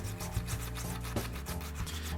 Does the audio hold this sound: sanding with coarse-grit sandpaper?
yes